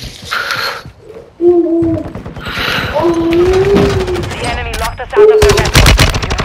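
SMG gunfire in Call of Duty: Modern Warfare II comes in loud rapid bursts of automatic fire, mixed with game sound effects and a voice talking over the action.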